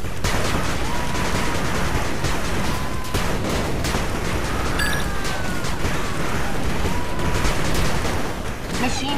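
A machine gun turret in the video game 8-Bit Armies firing continuously amid dense battle noise, with rapid overlapping shots and blasts that stay loud throughout.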